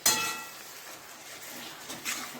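A spoon scraping and clinking in a pan while mutton is stirred with ginger, garlic and green chilli paste, with a sharp metallic knock at the start, then faint scraping and a few soft clinks.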